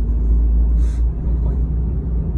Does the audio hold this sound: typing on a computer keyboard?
no